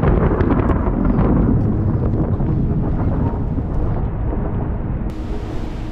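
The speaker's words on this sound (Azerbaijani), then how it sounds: "Yenə dəhşətli bir yağışa düşdük." Heavy rain pours steadily at a hilltop fortress in Nakhchivan, a dense, loud, continuous roar buffeted by wind noise on the microphone, with low rumbling beneath and no voices.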